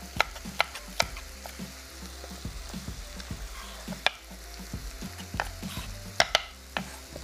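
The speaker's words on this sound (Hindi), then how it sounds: "चिकन का पकने का अमल शुरू हो चुका है" Chicken for green masala chicken sizzles in a pan while a spatula stirs and knocks against the metal in scattered sharp clicks over a soft, constant frying hiss, with no voices.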